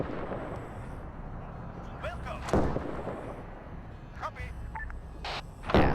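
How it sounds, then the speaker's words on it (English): Gunfire and artillery in a 1948 Arab-Israeli battle strategy game, a muffled rumbling backdrop punctuated by several sharp distant booms and cracks, spaced irregularly, with a voice talking faintly over them. "I'm relying on those gunshots to tell me, okay, I need to start moving my forces here"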